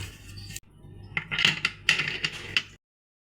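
A pot lid being set and closed on a pot of beef pulao, heard as a series of close metallic clinks and clatters that end in sudden silence.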